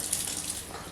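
Tap water runs steadily into a sink, splashing softly as Tattler reusable canning lids are rinsed under the stream.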